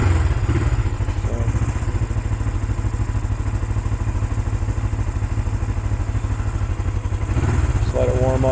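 A 1975 Honda CL360 Scrambler motorcycle engine idles close by in a steady, even, low putter with a faint mechanical clatter, and it revs briefly near the end.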